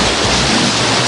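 Strong wind roars across Guadalupe Island, a dense, loud, continuous rush of gusting air with no pauses.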